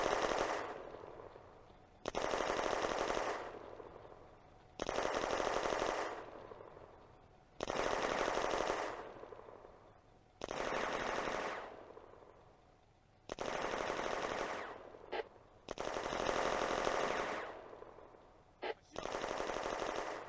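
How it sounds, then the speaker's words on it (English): Panzer III machine gun fire from a tank engaging Soviet infantry in a World War II combat video game, loud sustained bursts of several seconds each, repeated roughly every two and a half seconds with short pauses between. "Schubert's Panzer III engages Soviet infantry near East Hill."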